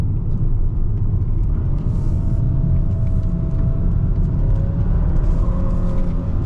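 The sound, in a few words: Hyundai Sonata N Line accelerating with wheel spin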